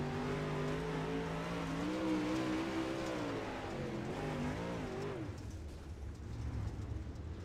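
A sim racing car's engine revs and winds through rising and falling pitch under load, then cuts off into a rougher, lower rumble, loud and close throughout.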